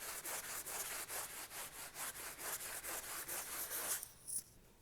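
Steady back-and-forth rubbing on a dirty painted wall, a dry, scratchy scrubbing stroke repeated rhythmically at close range for about four seconds before easing off, with no voices.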